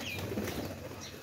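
Pigeons released from their coops, white and wild birds, flap their wings in a soft flurry nearby after rain, with faint cooing in the quiet background.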